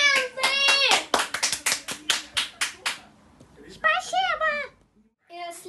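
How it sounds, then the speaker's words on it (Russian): Rhythmic hand clapping, about nine quick claps in a row from a small audience at a homemade children's concert, with a voice talking before and after it. "Аплодисменты!"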